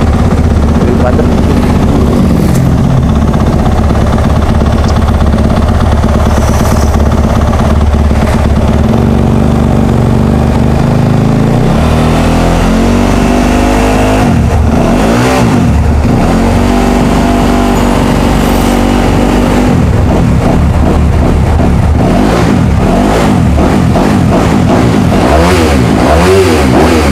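Yamaha YZ250F competition four-stroke motorcycle engine revving loud and close, with repeated sharp blips and rising revs over a rough idle, while someone talks over it.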